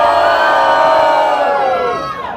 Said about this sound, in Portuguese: Levanta uma mão e faz barulho pra quem gostou da rima do Thiago